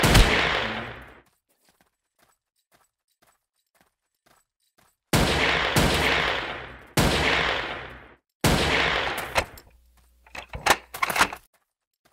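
Gunfire in the voxel shooter game Ace of Spades: several loud, sharp broadband blasts with ringing tails, one at the start, then a cluster of shots later followed by quicker bursts of fire.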